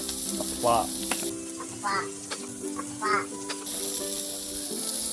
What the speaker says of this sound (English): Get them buns on, toast them up nicely.